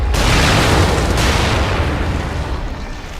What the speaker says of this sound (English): Grenades up.